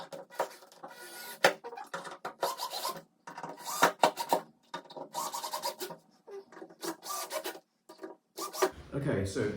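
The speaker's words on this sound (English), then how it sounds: "and then tighten them up with a screwdriver." Fence screws are driven in with a hand screwdriver, giving repeated rasping, scratching turns in short bursts separated by pauses, close up, with a brief knock near the end.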